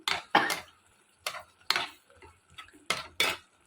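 A spoon scrapes and knocks against a pan as fried seer fish manchurian is stirred over a low flame, in about seven sharp, uneven strokes with short gaps between them and no talking.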